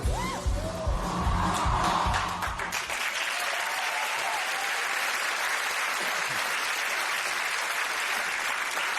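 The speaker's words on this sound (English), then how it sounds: "And the crowd went absolutely wild" A large crowd at Glastonbury festival cheering and applauding, opening with a brief burst of music before a dense, sustained roar of clapping and shouts fills the remaining seconds.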